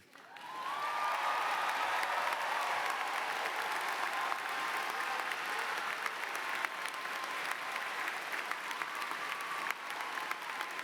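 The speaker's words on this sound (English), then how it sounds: "Please turn and face your families and friends for applause." A large audience applauding at a university graduation convocation ceremony, sustained dense clapping from a big crowd, steady and continuous throughout, heard from a distance in a spacious hall.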